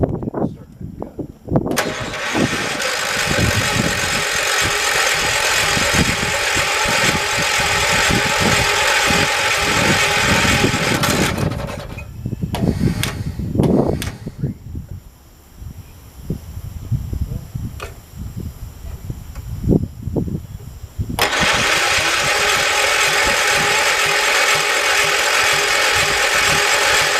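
A 1972 John Deere 112 lawn tractor engine runs loud and steady, cuts out for several seconds of clanks and handling noises, then roars back to a sustained run.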